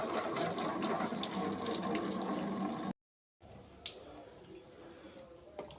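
A water tap runs steadily into a sink to rinse a dirty fish tank lid. The broadband rush stops abruptly midway, then resumes more quietly with splashes and drips.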